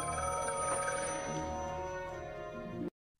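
Phone ringing from Ghostbusters: Afterlife, a steady electronic trill with dense stacked tones holding for about three seconds, close and loud, then cut off abruptly into silence.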